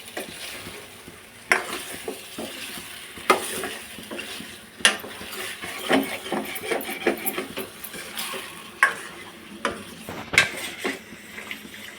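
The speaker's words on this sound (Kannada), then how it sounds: "ಮಿಕ್ಸ್ ಮಾಡ್ಕೊಳ್ಳೋಣ ಹಸಿ ವಾಸನೆ ಚೆನ್ನಾಗಿ ಹೋಗೋ ತನಕ ಚೆನ್ನಾಗಿ ಫ್ರೈ ಮಾಡ್ಕೊಡೋಣ" Masala stirred and fried in a pan for chicken fry, a steady sizzle under repeated scraping and clinking of a spoon against the pan, close and continuous.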